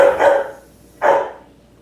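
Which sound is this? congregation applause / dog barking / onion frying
dog barking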